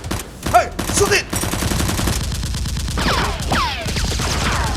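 Toy Nerf blasters fire in rapid bursts during a staged police-style fight, clustered popping shots repeating throughout with shouting voices at the start.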